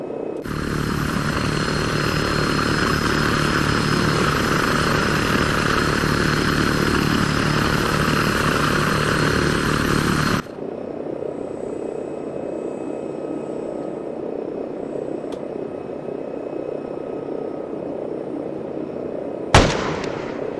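Military helicopter in the Arma 3 combat game, its steady rotor and engine drone loud and close, with gunfire bursts mixed in; it drops abruptly to a quieter distant hum midway, followed by a sharp bang near the end.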